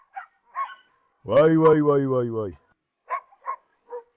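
A rottweiler growls in one sustained, loud, close snarl lasting about a second, while a person's short exclamations are heard before and after it.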